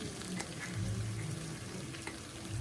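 Spices sizzle and crackle steadily in hot oil for a vegetable curry, a soft continuous fry close by with a faint low hum underneath and no voices.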